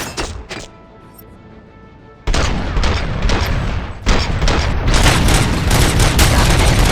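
Sustained gunfire in RoboCop: Rogue City erupts loudly after a quiet stretch with a few isolated shots, then runs as dense rapid bursts that build to a steady, heavy barrage.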